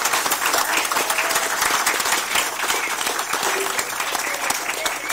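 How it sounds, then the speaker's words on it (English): Loud, continuous applause from a room at a school district board meeting honoring an elementary school, many hands clapping in a dense, crackling wash with no talk over it. "Let's give her a big round of applause."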